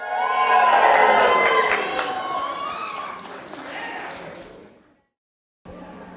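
Wedding reception guests cheer loudly together after a toast, a crowd of voices swelling at once, then fading over several seconds before a brief silence and renewed room noise.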